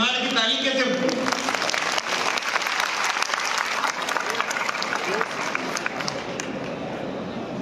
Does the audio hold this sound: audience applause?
yes